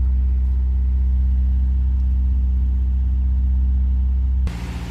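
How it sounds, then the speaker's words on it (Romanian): Skoda car engine held at roughly 2000 rpm while the cooling system is bled, a steady close mechanical drone that stays constant and then drops abruptly near the end. "Cresc turația motorului la aproximativ 2000 de rotații pe minut"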